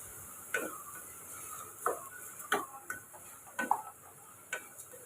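Soaked basmati rice being stirred in a pressure cooker, with a spoon scraping and clacking against the pot in a handful of separate, fairly close strokes over a faint steady hiss.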